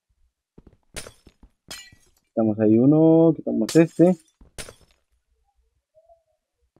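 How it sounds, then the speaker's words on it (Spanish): Glass windows shatter in a video game, coming as a few sharp, brief cracks spaced apart with quiet between them. Someone talks in between the breaks. "romper los cristales"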